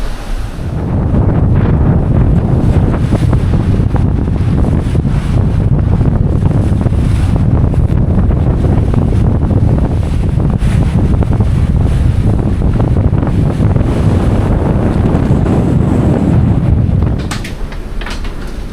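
Strong wind roars across the microphone on a sailboat sailing downwind, solo, in the Bahamas: a loud, constant rushing buffet that fills the whole stretch and drops off briefly at the end.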